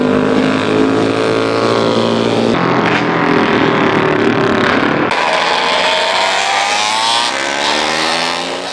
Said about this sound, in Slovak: Po 9. raz tu predviedli svoje umenie i rýchlosť historických strojov na holíčskom zámockom okruhu motocykloví pretekári